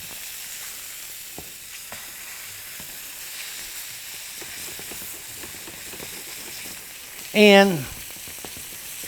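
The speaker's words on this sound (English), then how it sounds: "to give that steak a first turn after this nice sear" Steak searing in a hot pan with a low, steady sizzle and occasional crackles, then a brief loud scrape or clatter near the end; someone speaks briefly.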